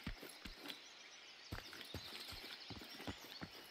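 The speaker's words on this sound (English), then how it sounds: "I like the sound of the footsteps. Sounds really good." Footsteps of a character walking in the tactical shooter game Incursion: Red River: a steady series of crisp, close thuds about twice per second over a constant hissing ambient bed, with no talking.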